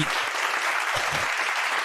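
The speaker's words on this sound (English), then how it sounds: "Round of applause for Ray G.I.G.S." A livestream audience in a smokers' lounge gives a round of applause for Ray G.I.G.S., steady dense clapping that fills the whole stretch at close range.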